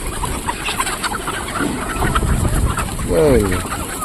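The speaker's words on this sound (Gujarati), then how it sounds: "બીજા ફાર્મના કુકડા છૂટા થઈ ગયા" Roosters cluck and squawk nearby over a noisy background, with a louder, drawn-out call near the end.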